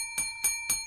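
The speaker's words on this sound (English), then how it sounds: "So, I'm here to sound the bell." A bell rings three times in steady succession, each strike bright and loud with a clear ringing tone that sustains between hits.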